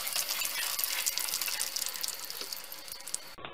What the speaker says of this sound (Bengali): মাঝারি করে সোনালি করে ভেজে নিব।